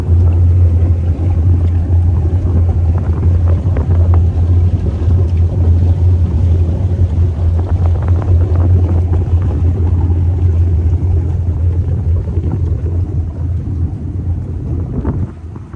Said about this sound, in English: here's kind of the exhaust note from the rear.